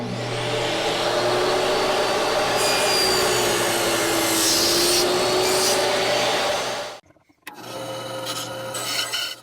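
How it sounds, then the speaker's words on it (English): Table saw cutting a slot in wood for a chisel and gouge sharpening jig, a loud continuous whining roar under the blade for about seven seconds, briefly dropping out, then spinning back up close by. "Now I'll cut this slot on the table saw."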